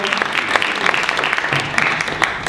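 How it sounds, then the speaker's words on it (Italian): Audience applause at a wine guide presentation for the tasting commission, a steady close patter of many hands with scattered louder claps over about two seconds. "a cui vorrei fare anche un applauso"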